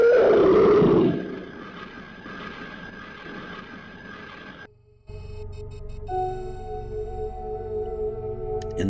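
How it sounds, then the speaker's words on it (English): Alleged recording of an unknown creature from the 1973 Big Muddy case in Murfreesboro, Illinois: a loud, high-pitched roaring scream for about a second, then a lower rumbling growl fading out, followed by eerie sustained tones. "Whether this is a reconstruction or a genuine capture of the high-pitched screaming described by the officers"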